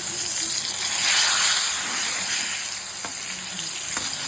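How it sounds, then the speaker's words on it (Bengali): Cumin seeds and a bay leaf sizzle loudly in hot oil, a close, constant hiss that swells and then settles, with a couple of faint clicks near the end. "আমি দিয়ে দেব জিরে ফোড়ন, তেজপাতা,"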